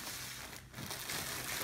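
Plastic packaging around a GhostBed pillow crinkles and rustles close by, a soft continuous crackle lasting under two seconds.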